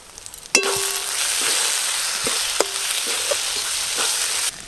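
Mutton curry masala with sugar fries and sizzles steadily in hot oil, with a few stirring scrapes and clicks over a continuous close hiss.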